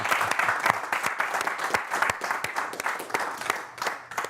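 Audience applause at a live comedy show, many hands clapping loudly and continuously with sharp individual claps standing out nearby.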